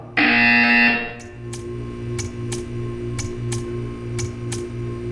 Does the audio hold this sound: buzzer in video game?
yes